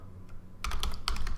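Keys clatter on a computer keyboard as text is typed into circuit-design software: a quiet lull, then a quick, close run of crisp clicks over the last second.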